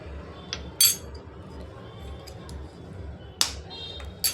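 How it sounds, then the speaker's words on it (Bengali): An egg cracked into a bowl of batter with cornflour and salt for egg chilli: two sharp, close knocks with a brief clink, separated by a few seconds of quiet kitchen background. "আর এখানে একটা ডিম ফাটিয়ে নেব।"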